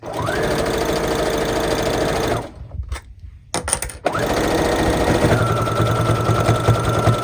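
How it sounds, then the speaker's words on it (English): A sewing machine back-stitching a fabric soap pouch whirs loudly and closely in two steady runs separated by a short pause of quieter clicks. "And then back stitch just so that my thread doesn't come undone."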